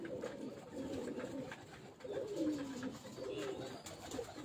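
Pigeons coo steadily from a rooftop loft, a soft rolling murmur repeating in several close, overlapping phrases with no talk.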